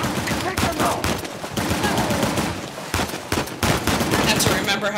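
Rapid, dense gunfire crackles through an ambush firefight in the video game Uncharted: Lost Legacy, with bursts of shots overlapping continuously at close range.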